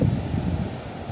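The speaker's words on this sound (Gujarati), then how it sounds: "નદીનો અવાજ એ જોઈએ ખળખળ ખળખળ થતી નદી વહે છે ભાઈ" A flooded river rushes past right beside a house during heavy rain, a steady, close, low rumbling roar of churning water with wind-like buffeting and no voices.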